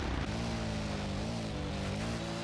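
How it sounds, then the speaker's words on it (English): Engine of a RZR UTV in MX vs ATV Legends hums steadily at moderate volume, a continuous low drone with shifting tone as revs rise and dip slightly, with no speech over it. "I have very quiet engine sounds now"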